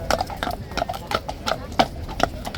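Hooves of two King's Horse Guards horses clip-clop on pavement at a steady walking rhythm, close and crisp. A crowd murmurs in the background.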